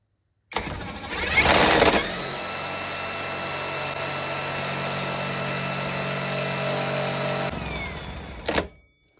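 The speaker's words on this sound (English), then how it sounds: "As the drill turns, these pieces of angle are going to be cinched, causing this to break and building up torque until the drill stops" A 12 volt Hyper Tough cordless drill spins against a torque adapter, a loud steady motor whir that surges at the start, holds a strained drone for several seconds, then cuts off abruptly.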